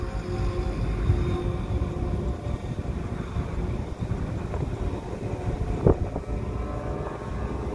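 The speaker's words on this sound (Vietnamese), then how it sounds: "Gió này giật quá." Gusty wind buffets the microphone outdoors in a continuous low rumbling roar with fluctuating gusts, and a brief sharper knock near the end, with no talking.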